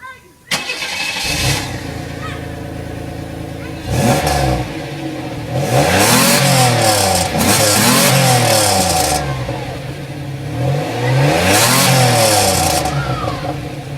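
A Camaro fitted with a cheap $9 Walmart exhaust tip starts up and revs repeatedly, loud, rising bursts of engine roar with a voice talking over it.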